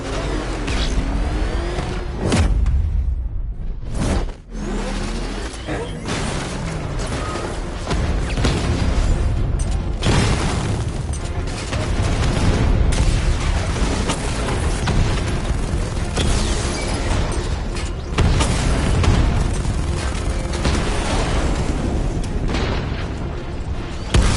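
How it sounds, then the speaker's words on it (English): Batmobile 60mm cannon fire in the video game Batman: Arkham Knight, heavy booming shots and explosions landing repeatedly over a dense, continuous roar of engine and combat noise, with no speech. "Your 60mm cannon will penetrate these heavily armored units, but it'll take a few direct hits to destroy them."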